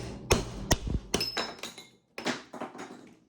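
Sharp metallic taps ring out one after another, a hammer striking a metal doming tool on leather in an irregular series of close blows.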